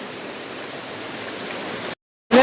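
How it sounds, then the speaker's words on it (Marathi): A small waterfall pours steadily, a dense even rush of flowing water close by, with no voices, before the sound cuts out briefly and returns. "हा बघा आमचा छोटासा वजर धबधबा"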